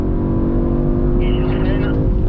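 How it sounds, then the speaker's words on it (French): An Audi RS4 Avant engine hums loudly and steadily as it accelerates on a track, its tone rising gently with a brief higher whine near the end. "On accélère de plus en plus."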